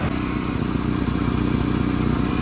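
A cleaned-up throttle body on a 1996–2001 Ford Ranger 2.5 engine, running warmed up: a steady, loud mechanical hum with an even idle rhythm and faint clatter, close by and without talk.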